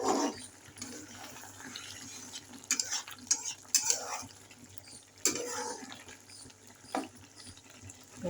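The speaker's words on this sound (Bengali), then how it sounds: "হালকা করে নেড়ে চেড়ে নেবো একটু।" Mustard curry in a pan is gently stirred after a sprinkle of chopped coriander: soft sizzling runs underneath while a spoon scrapes and taps the pan in irregular bursts, close and fairly quiet.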